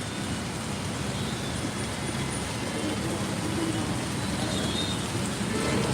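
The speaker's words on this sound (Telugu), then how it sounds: "హైదరాబాద్లో అయితే ఫుల్ వర్షం పడుతుంది" Steady heavy rain in Hyderabad hissing across the whole stretch, mixed with a low rumble of nearby road traffic.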